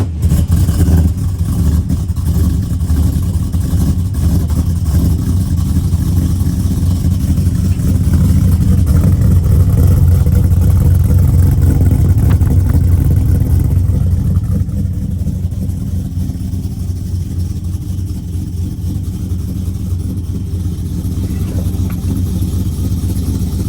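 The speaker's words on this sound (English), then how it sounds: "this is the first start with the new exhaust" A GMC Sierra with an LS2 V8, new headers and true dual exhaust fires up for the first time and settles into a deep, rumbling idle, loud and steady throughout with no talk.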